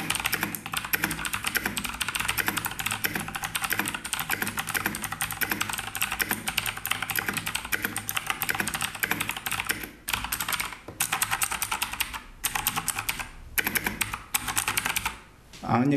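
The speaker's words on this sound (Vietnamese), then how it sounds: "bây giờ mình sẽ gõ một đoạn văn bản nhé." Fast, steady typing on a CK108 RGB mechanical keyboard with a microphone aimed at the keys produces dense, crisp clicks close up, with a few brief pauses near the end.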